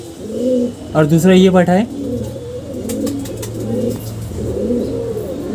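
Pigeons perched on a stairway, cooing in deep throaty rolls, with one loud close call, as someone talks over them.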